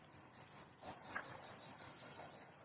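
A caged yellow-vented bulbul chirps in a quick run of bright, repeated notes, close and clear against faint background hiss.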